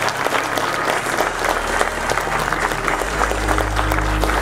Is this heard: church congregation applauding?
yes